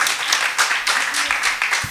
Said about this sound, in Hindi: आप हजरात की बहुत ज़ोरदार तालियों के साथ मैं दावत कलाम देता हूँ जना मोहतरमा राशिदा सुरैया साहबा को।